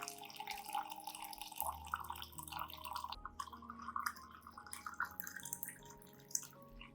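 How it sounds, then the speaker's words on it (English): Hot water trickles and drips into a glass with a rice-powder solution, a steady light liquid splashing with small drips, fairly close and alone without talk. "Then add 500 milliliters of hot water to make the solution."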